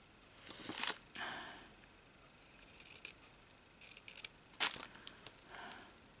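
Scissors snipping through gathered fabric during a sewing alteration, two sharp cutting bursts about four seconds apart with a few faint rustles between, close and fairly quiet with no talking.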